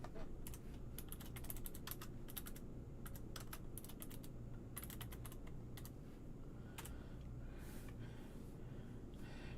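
Commands being typed on a computer keyboard, close, quick clusters of key clicks in bursts with short pauses, over a low steady room hum and faint breathing, no speech.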